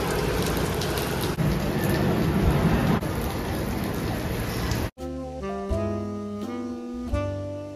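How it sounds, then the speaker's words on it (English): Heavy pouring rain during a city stop in Belgium or Holland, a dense, loud wash for about five seconds that then cuts abruptly to music. "It's pouring."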